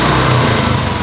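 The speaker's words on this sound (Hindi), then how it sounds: "रेव करो वसीम" A motorcycle engine revs loudly and close by, a buzzy, steady high-pitched roar that holds for a moment without any talking.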